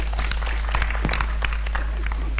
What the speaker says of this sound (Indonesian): tepuk tangan teman-teman sekalian ya